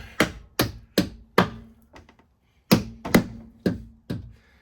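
A ball peen hammer strikes the pinch weld on a 4th-gen Toyota 4Runner (2003-2009) in about eight loud, close metallic blows. They fall in two quick bursts separated by a short pause, and each strike rings briefly.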